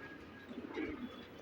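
A single soft, low coo from an original Tonk-bred pigeon, close and brief, with a faint background hum.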